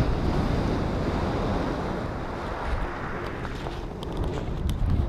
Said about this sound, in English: Sound of the waves, just beautiful,